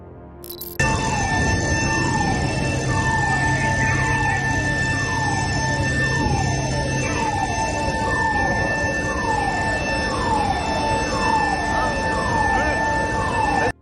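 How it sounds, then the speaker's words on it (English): Emergency vehicle sirens wail loudly and continuously at a steel mill fire in Germany, a repeating downward-sweeping tone cycling about once a second over a steady background hum. "You can hear sirens and see this massive fireball."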